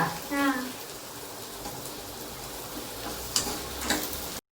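Onions sautéing in a pan in a home kitchen, a low steady sizzle with occasional stirring clinks, a brief voice at the start and sharper scrapes near the end.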